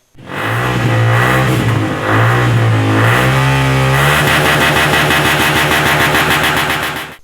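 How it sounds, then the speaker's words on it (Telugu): A Bullet motorcycle with a modified silencer revs loudly and repeatedly nearby, its harsh, throaty roar rising with each twist of the throttle before holding at a high drone. "ఎక్సలేటర్ ఇచ్చినా కొద్దీ బండి సౌండ్ ఎట్లా పెరుగుతున్నదో చూడుండ్రి"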